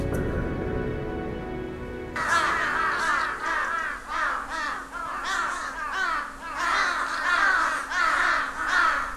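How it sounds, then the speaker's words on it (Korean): A flock of crows caws loudly and repeatedly in a winter forest, overlapping harsh calls in steady bursts after a brief lower-toned opening. "숲속에 까마귀 떼가 몰려든다."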